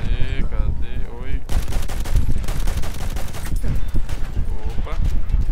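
Gunfire in the Battlefield 1 video game comes as loud, rapid automatic bursts of close shots, with voices talking over the shooting.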